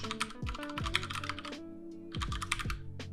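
Quick bursts of typing on a computer keyboard, close and crisp, with two runs of rapid keystrokes separated by a short pause and no talk.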